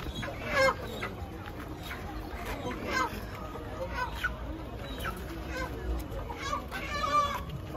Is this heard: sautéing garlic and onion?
no